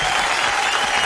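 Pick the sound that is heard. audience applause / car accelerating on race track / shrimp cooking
audience applause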